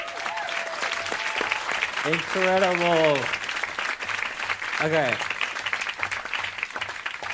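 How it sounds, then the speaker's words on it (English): A crowd applauds a rap performance, steady clapping running throughout with a person talking over it near the middle. "there's just applause"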